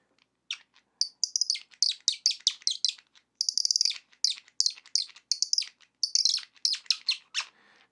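Rapid, high-pitched chirping whistles in quick repeated bursts, bright and close, like a bird call imitated on a whistle.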